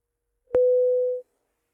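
A single steady telephone tone sounds after a call is hung up, one clean sustained beep lasting under a second, loud and close, with silence on either side.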